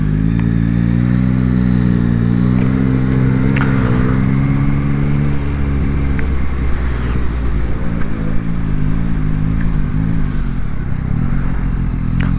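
Yamaha Tracer 9 GT motorcycle ridden along quiet roads, a steady loud engine drone with shifting pitch and rumbling tone heard close from the rider's position, continuous and without pauses.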